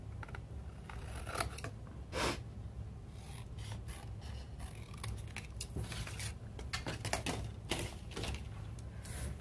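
Scissors snip and rasp through paper while pieces for a folded book with pockets are cut out: a dense run of close, repeated cutting sounds with brief pauses, no talking.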